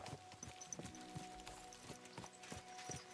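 Horse hooves clip-clopping at a walk in the game Kingdom Come: Deliverance 2, a regular, soft, fairly quiet plodding rhythm set against a faint, constant background hum.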